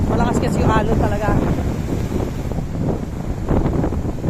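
Strong sea waves and gusting wind buffet the microphone on an island shore during a tsunami-like surge, a loud continuous roar with heavy low rumble throughout, while voices shout faintly underneath.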